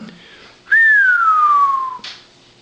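A child whistles one long, clear falling note lasting over a second, close and loud in a quiet room, followed by a short breathy sound.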